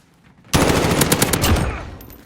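Call of Duty Modern Warfare gunfire in a 6v6 Headquarters match on a tank factory map: a sudden loud automatic burst, close and sustained for under two seconds, with no talk.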